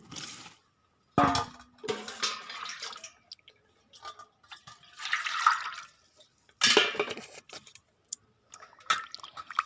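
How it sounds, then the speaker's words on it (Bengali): Wash water mixed with stove ash being poured away in a few separate splashing bursts, with short pauses of quiet between the pours. "তো এই জলটাকে ফেলে দেবো আবার"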